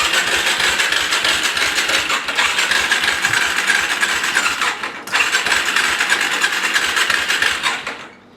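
A Suzuki LTZ 400 ATV engine, sprayed with brake cleaner and with the idle turned down, cranks loudly with a rhythmic chugging, pauses briefly midway, cranks again, then stops without settling into a run.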